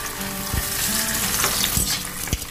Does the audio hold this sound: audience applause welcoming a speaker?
no